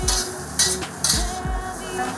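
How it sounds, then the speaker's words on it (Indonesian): Smoked beef stir-frying in a hot wok, with a steady close sizzle broken by a few sharp scrapes and clinks of a spatula stirring against the metal pan. "Lalu ditumis dagingnya guys."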